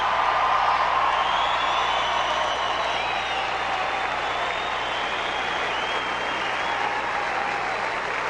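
A tennis crowd at the 2003 Australian Open fills the stadium with sustained, loud applause and scattered whoops and cheers after the Roddick versus El Aynaoui match, a dense roar that holds steady throughout.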